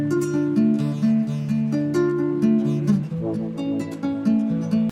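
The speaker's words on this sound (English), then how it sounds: "So it starts off with this little arpeggio." A gently picked guitar arpeggio at the start of a music track, notes rolling in a steady repeating pattern with ringing overlap, clear and alone.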